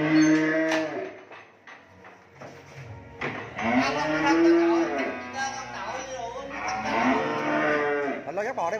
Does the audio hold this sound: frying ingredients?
no